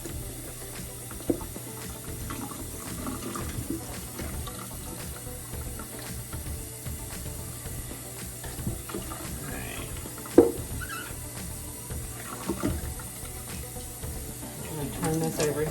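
Tap water runs steadily from a faucet into a sink while a turkey is rinsed, a soft continuous wash with occasional small splashes and clunks, fairly quiet and broken by a little speech.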